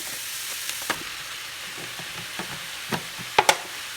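Garlic and mushrooms sizzle in a frying pan being made for cube steak, a faint steady crackle with a few sharper pops and stirring clicks near the end, with no talking.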